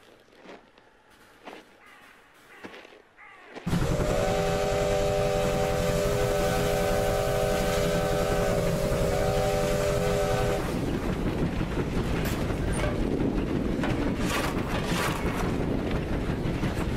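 A steam train with a string of wagons starts up loudly after a quiet opening, with a sustained whistle-like tonal blast over heavy rolling rumble that continues steadily to the end.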